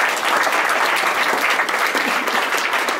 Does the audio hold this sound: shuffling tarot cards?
no